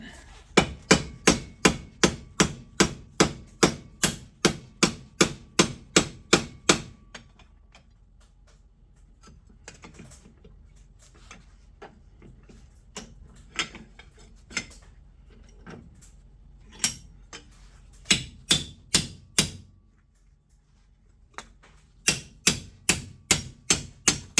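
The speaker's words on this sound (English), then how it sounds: "Alright, I got a chisel. We'll just kind of work them." A chisel hammered against a Craftsman ZTS 7500 zero turn mower deck during a rebuild, giving rapid bursts of sharp metallic strikes separated by short pauses and a few slower, scattered taps.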